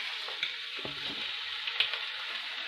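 Beef short ribs laid into olive oil in a pan, a soft steady sizzle with a few clinks of tongs, fairly quiet and close.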